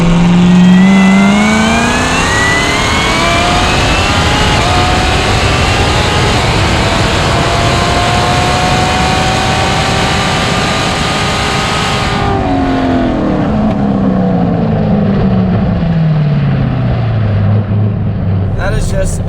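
A Hennessey HPE1200 Corvette ZR1 accelerating hard on a track from a rolling start, with a loud, sustained engine roar rising in pitch through the gears and wind rush, heard from inside the car.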